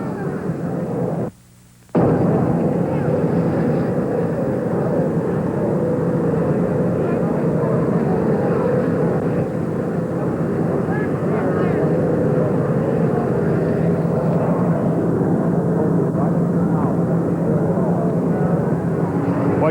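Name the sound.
Army helicopter landing, loud rotor noise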